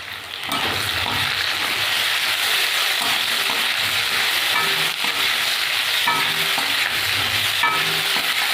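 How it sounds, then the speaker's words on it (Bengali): Onion and green chili fry in oil alongside potatoes for a Bengali puti fish dish, giving a steady, loud sizzle with occasional stirring scrapes that runs through the whole stretch without talk. "এটাকে একটু ভাজা ভাজা করে নেব।"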